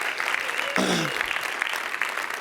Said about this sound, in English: Let's give Greg another round of applause.